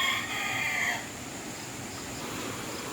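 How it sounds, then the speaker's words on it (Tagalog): A chicken calls briefly at the start, a short clucking or crowing note, then fades into steady outdoor background noise. "may manok pa rito"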